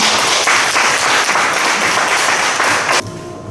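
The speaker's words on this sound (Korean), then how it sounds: "여러분 뜨거운 박수를 한 번 더 맞아주시기 바랍니다" Audience applause at a poetry recital fills the room, a dense, steady wash of many hands clapping for about three seconds before cutting off abruptly.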